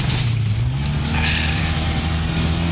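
A Mercedes on a test drive over a rough track gives a close, steady engine drone with shifting pitch as it accelerates, loud and continuous with no talk over it.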